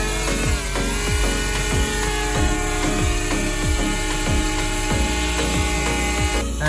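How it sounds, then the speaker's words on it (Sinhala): A steady, loud whine of small drone motors spinning up, with buzzing harmonics and repeated low thumps as the rotors climb to speed. "ඊට පස්සේ මේ වම් පැත්තේ ස්ටික් එක උඩට කරාම ඩ්‍රෝන් එක අපිට මෙහෙම උඩට ගන්න හැකියි"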